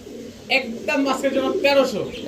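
A Rampuri pigeon pair in breeding mood gives short, aggressive coos in a few quick bursts, close by and mixed with someone talking over them.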